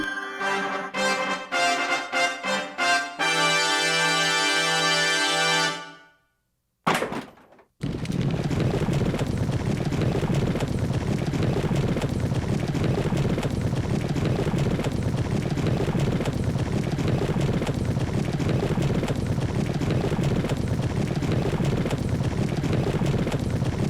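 Galloping hooves from a horse race in the video game Killer7, brief tonal game sounds, a moment of silence, then a dense continuous drumming of hooves running loud and steady to the end.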